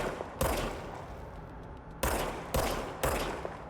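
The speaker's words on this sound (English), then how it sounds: "Now I have a machine gun." Gunfire from the video game Control: sharp, loud shots arriving in separate bursts with a longer gap after the first, each followed by a decaying tail, close and without talking.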